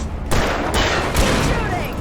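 Gunfire in Alan Wake Remastered, loud bursts of rapid shots over dense background noise, with sharp cracks near the start and middle.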